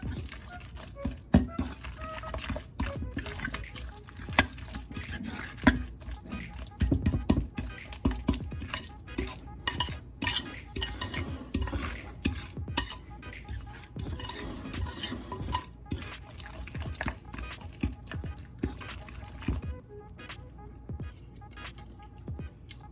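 Spoon stirring crab rangoon filling mixed with red pepper flakes, a close, steady run of wet scraping and squishing strokes against the bowl that thins out near the end.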